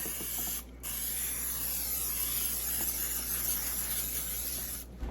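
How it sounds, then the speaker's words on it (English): A sustained hissing spray from a can of cooking spray coating a baking dish, close by, with a brief pause early on before the spraying continues steadily. "What we're going to do now is spray the dish."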